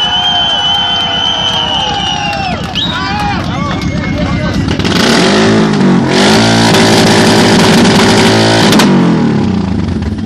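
A loud Suzuki motorcycle engine revs hard amid a noisy, cheering crowd at a loudest-motorcycle contest in Montana, Bulgaria, in 2016, with voices audible throughout.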